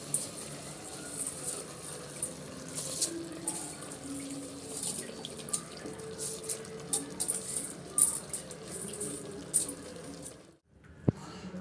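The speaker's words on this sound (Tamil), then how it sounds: "நீங்கள் 2 டம்ளர் தண்ணி போட்டுக்கோங்க." Water from a tumbler is poured over rice in a pot while making prawn biryani, giving a steady gushing flow for about ten seconds before it stops abruptly.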